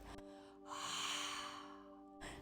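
A single deep inhale during a breathing exercise, a soft drawn-in breath lasting over a second, close to the microphone over a faint steady hum.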